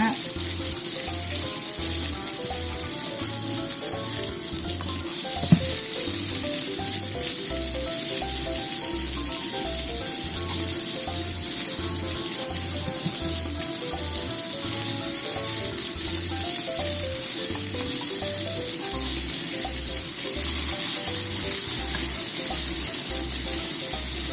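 Tofu hamburger patties fry in a pan with a steady, close sizzle that runs the whole way through, with a soft knock near the middle and faint background music underneath.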